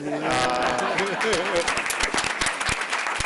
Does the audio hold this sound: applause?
yes